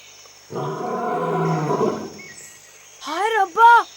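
A single deep, rumbling lion roar lasts about a second and a half, followed by a few quick high bird-like calls.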